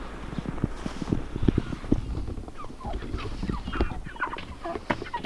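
Several chickens clucking and squawking in short, irregular calls close by in winter snow, with soft rustling and footsteps underneath.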